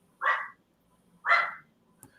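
A dog gives two short barks about a second apart, heard at moderate volume from a little distance in an otherwise quiet room, followed by a faint tick.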